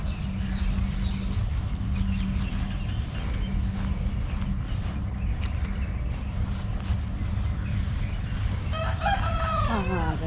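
A rooster crows once near the end, loud and close, over a steady outdoor hiss during a morning walk among date palms.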